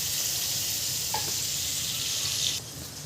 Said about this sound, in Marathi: आपण 2 चमचे बटर टाकतोय